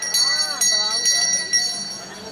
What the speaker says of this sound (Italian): Categorie veterani sentiranno il suono della campana, ultimo giro ragazzi